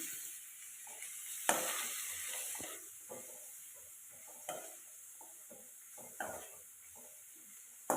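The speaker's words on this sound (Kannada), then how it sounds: "ಹಸಿ ವಾಸನೆ ಹೋಗೋ ತನಕ ಸ್ವಲ್ಪ ಫ್ರೈ ಮಾಡ್ಕೋಬೇಕು ಚೆನ್ನಾಗಿ" Onions frying in a pan for paneer butter masala, a soft steady sizzle with a faint hiss, punctuated every second or so by spatula scrapes and light knocks.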